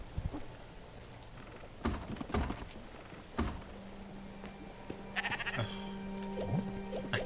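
Sheep bleat in the video game Spiritfarer, several separate calls spaced a few seconds apart against a quiet backdrop of soft game ambience, with a few light thunks mixed in.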